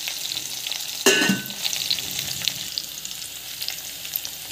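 Mustard seeds and small shallots sizzle and fry in hot oil in a pan, a sharp crackling burst as they hit the oil followed by a steady close hiss with light stirring scrapes.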